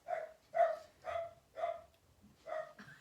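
Several dogs bark in a run of five loud, evenly spaced bursts at someone arriving at the front door of a house, close by with no talk over them.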